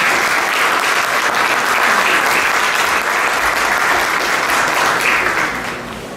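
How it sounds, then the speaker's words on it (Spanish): Audience at a legal forum gives loud, sustained applause welcoming lawyer Alexander Leiva, a thick, even wall of clapping from a full room that holds for about five seconds before easing off. "para el cual pedimos un fuerte y caluroso aplauso"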